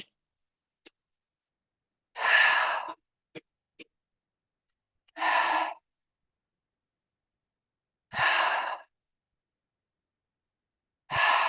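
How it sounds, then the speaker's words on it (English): During a qigong session, a person breathes out through the mouth four times in long, soft, airy exhalations spaced a few seconds apart, close to the microphone, with near silence in between. "now you can actually breathe out through the mouth"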